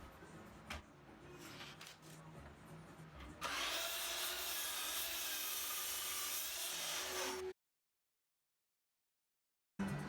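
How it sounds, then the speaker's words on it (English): Miter saw cutting an old wood board to length in a workshop: a few soft knocks and handling, then a loud, steady four-second cutting roar that stops abruptly into silence. "here I'm just trimming it down to approximate length on the miter saw before I resaw it on the bandsaw"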